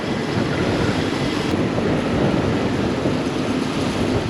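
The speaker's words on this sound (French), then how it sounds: "vous entendez peut-être beaucoup de vent, c'est le Varatraz, hein, ce sont les alizés" Strong, steady Varatraz trade wind roaring across the microphone near Cap d'Ambre, Madagascar, a loud continuous rumble with gusty low-end buffeting throughout and no voices.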